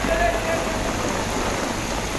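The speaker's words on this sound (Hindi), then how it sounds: "तक मूसलाधार बारिश हुई है" Heavy downpour in Raisen, Madhya Pradesh, a steady broadband hiss of rain with no breaks, close and fairly loud throughout.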